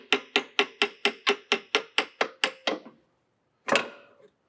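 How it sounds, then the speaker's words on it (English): A hammer or rubber mallet drives a new front control arm bushing into the subframe of a 2015-2021 VW Mk7 Golf R: eleven quick, evenly spaced knocks, a pause, then one final blow, close and sharp. "You can use a hammer, a rubber mallet, whichever you have handy to kind of help course it in."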